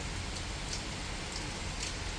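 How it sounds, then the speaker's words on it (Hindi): Heavy rain pours down in Gurgaon, a dense, steady hiss of falling water and drops striking surfaces, loud and unbroken with no voices. "देखो इतनी तेज़ बारिश आ गई"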